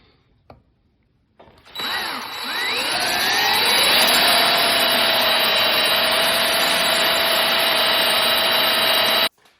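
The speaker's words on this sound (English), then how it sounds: "I'm going to drill the bolt that holds it on with for safety wire" A power drill bores into a transmission yoke bolt to make a hole for safety wire, starting after a short quiet moment with a loud, steady high whine that rises in pitch and then runs on evenly until it suddenly stops.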